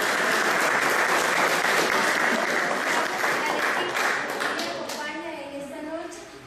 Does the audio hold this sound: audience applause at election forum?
yes